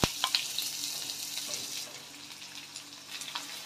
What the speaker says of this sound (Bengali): এবার সবজিগুলো দেওয়া হচ্ছে কড়াইয়ের মধ্যে, পেঁয়াজ দেওয়া হচ্ছে